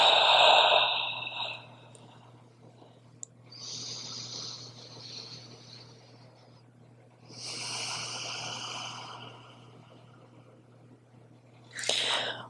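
Slow, deep yoga breaths during a session for lower back pain: three long, soft airy exhalations spaced several seconds apart, with a quieter inhale between them, close and intimate over a faint steady hum.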